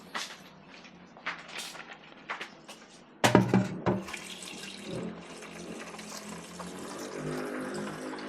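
Water runs from a kitchen tap into a sink, starting as scattered splashes and then settling into a steady, fairly close stream with clattering dishes and movement during cooking.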